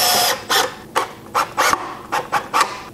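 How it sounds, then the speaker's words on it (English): A power driver sinks pocket hole screws into a wooden table top in a string of short, separate bursts of whirring, each lasting a fraction of a second, close and fairly loud. "So we'll just start installing the top with the pocket hole screws."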